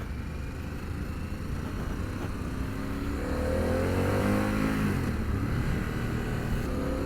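Harley-Davidson Pan America 1250 Special motorcycle engine running steadily while riding on the highway, a loud continuous drone with rising harmonic tones as the throttle opens smoothly midway.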